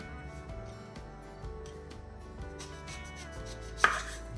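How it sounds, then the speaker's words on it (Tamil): Knife cutting through sweet potato on a board, soft repeated cuts under steady background music, with one sharper, louder chop near the end. "இந்த ரெண்டு சைடையும் கட் பண்ணி போட்டுடலாம்"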